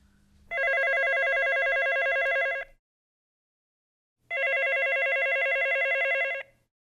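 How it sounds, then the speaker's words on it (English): An office telephone rings twice, each ring a loud, sustained electronic warble of about two seconds, separated by a clear pause of silence. "The phone rang"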